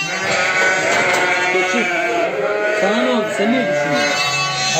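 Lambs bleating on a hillside farm, a run of repeated wavering cries close by and loud, with someone talking over them.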